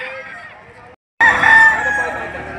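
Roosters crow at a livestock auction market in Padre Garcia, Batangas, with one short call and then a louder, longer cock-a-doodle-doo after a brief gap, close by and over a busy market background.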